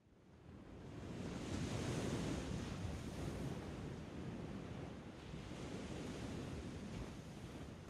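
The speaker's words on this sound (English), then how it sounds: "The sounds you're hearing are ocean waves recorded with a Neumann 191 microphone" Ocean waves roll in at Lamai Beach, Thailand, ahead of a storm, a dense, wind-blown wash of surf that swells up after the opening second and surges in broad, continuous breaks.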